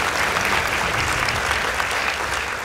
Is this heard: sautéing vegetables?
no